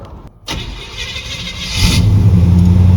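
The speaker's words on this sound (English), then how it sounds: "About to turn this shit on, man" A C10 pickup truck with a new exhaust, which has some leaks, cranks and fires up, settling into a loud, deep rumbling idle with a throaty low drone after a brief starter whir.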